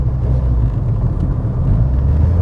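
A Vauxhall Corsa Turbo pulls away with a loud, steady low engine rumble heard from inside the car. No one speaks.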